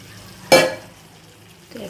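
Marinated chicken dropped into a pan of cooked-down masala, giving one sudden loud sizzle that fades into a quieter crackle, followed by a faint clink near the end.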